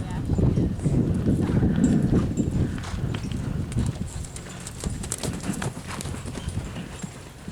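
An off-the-track Thoroughbred mare's hooves drum in a rhythmic canter on soft footing, close and moderately loud, with a rider talking over the footfalls.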